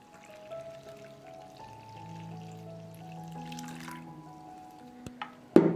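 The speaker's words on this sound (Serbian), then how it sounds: "I dodajem 320 ml vruće vode." About 320 ml of hot water is poured into a bowl of mixed dry dough ingredients, a steady close trickle and gurgle whose tone climbs as it fills for about five seconds, ending with a brief sharp clatter; no one speaks.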